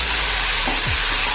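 Peeled small shallots and garlic cloves dropped into hot oil in a pan, giving a loud, continuous close sizzle for the whole short moment.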